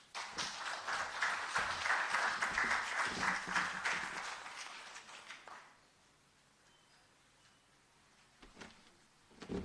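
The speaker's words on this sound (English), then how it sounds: "you really should give him another round of applause" Audience applause at a live-streamed accountability event in Jamaica, a loud sustained burst of clapping lasting about five seconds before cutting off into near-silence, with a couple of faint knocks near the end.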